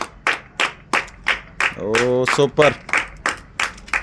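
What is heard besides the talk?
people clapping hands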